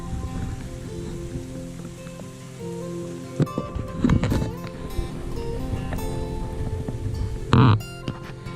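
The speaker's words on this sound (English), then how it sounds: "it's pissing with rain." Steady rain falls on an outdoor route between Ardales and Abdalajis in southern Spain during a bikepacking tour, with close rustling and a few sharp knocks and scrapes of gear over the wash of rain.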